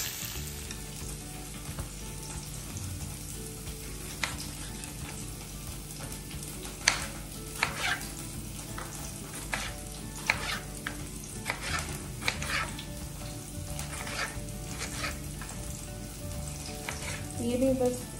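Tomato masala frying in a home kitchen pan, a steady close sizzle with crackling pops and occasional stirring scrapes, continuing alone without talk.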